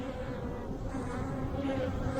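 Honey bees buzz steadily around a rooftop hive being split toward one queen, a dense close droning hum that holds without pause throughout.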